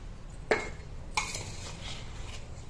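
Mango pickle pieces are tossed with spice powder: two sharp, close utensil clinks about half a second apart, then soft scraping and shuffling, fairly quiet and with no talk.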